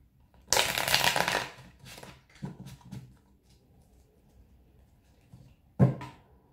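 Tarot cards are shuffled close by in quiet bursts: a long riffling rustle, then a few shorter shuffles and a final brief flutter of cards.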